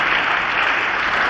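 Applause from a church congregation during a sermon, a dense, steady wash of many hands clapping at close range for the whole moment.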